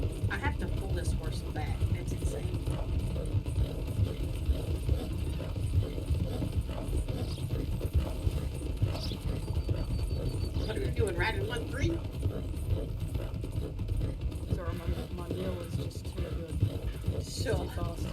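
Horse hooves clip-clop steadily beside a wagon in Red Dead Redemption 2 roleplay, a moderate rhythmic clatter running throughout under frequent talking.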